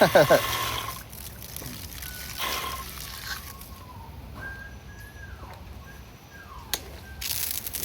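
Water sprays loose from a battery-powered pressure washer whose hose has come unclipped. A loud hissing gush opens the clip, then quieter spattering and splashing follow, with brief clatters.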